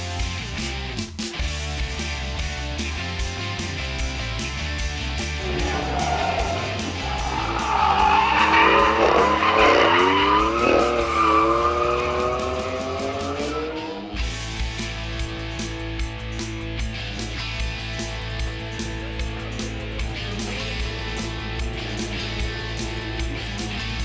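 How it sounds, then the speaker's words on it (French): Drift cars at the SEMA Show sliding with loud tire squeal that swells and wavers over a steady engine roar and crowd-area din, fairly distant but dominant for several seconds before fading back into the noise. "Vous pouvez justement avoir des tours de voitures, de véhicules de drift."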